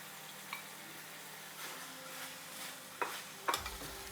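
Julienned carrots stirred in a pot with a spoon, soft scraping and faint sizzling, a few light knocks against the pot near the end, no talking.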